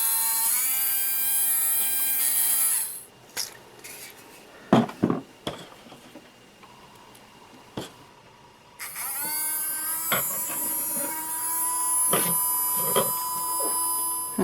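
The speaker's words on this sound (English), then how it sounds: "let's put some power to this motor" A small electric motor inside a refurbished cassette robot with a spiral gear whirs steadily at close range, then stops for several seconds of scattered clicks and knocks before running again with a busy whine.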